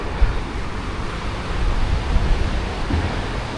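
The Porter Brook in Sheffield, at the bottom of London Road, gives a steady broadband rush of flowing water, constant and fairly loud, with a faint undertone of distant road traffic.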